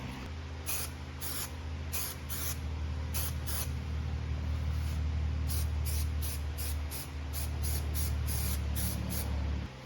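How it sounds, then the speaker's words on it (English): High build primer sprays from an aerosol can onto a car panel in a series of short, close hissing bursts over a constant low background hum. "I'm going to just use some high build out of a can."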